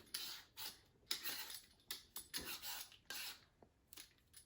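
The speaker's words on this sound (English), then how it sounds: "I'm going to go ahead and take my peeler, and I'm going to start peeling it" A hand peeler scrapes the skin off a butternut squash in short, quick rasping strokes with brief gaps between them, close up with no speech.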